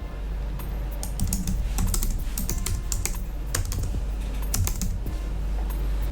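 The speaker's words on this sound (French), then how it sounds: "On commence par taper ce nom d'auteur dans la barre de recherche." Steady, rapid keystrokes on a computer keyboard, clicking in uneven bursts with short pauses, close by over a low hum.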